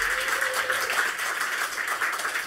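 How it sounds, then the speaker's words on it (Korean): A church congregation claps together in a steady, sustained round of applause that fills the whole short stretch at even loudness. "축복의 박수 한번 쳐드립시다."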